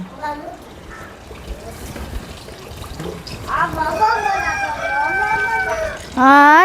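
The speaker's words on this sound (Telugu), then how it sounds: "ఈ టైం అప్పుడు కోడి కూతు పెడుతుంది" A rooster crows loudly partway through, a long wavering call over a noisy background with faint voices, followed by another sharp crow at the end.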